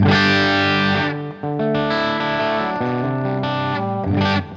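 An electric guitar fitted with Ron Ellis pickups plays through an overdriven fuzz tone, sounding thick and distorted as sustained notes and chords change in quick succession, loud and close.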